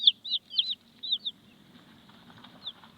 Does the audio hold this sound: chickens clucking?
yes